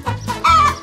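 A chicken clucks in two or three quick, loud bursts, close up and with no voices around it.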